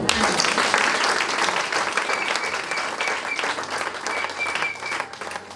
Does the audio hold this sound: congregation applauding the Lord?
yes